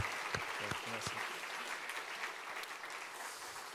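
A church congregation claps together at a Korean Sunday evening service after the choir, a soft, fairly distant patter of applause with a brief voice near the start.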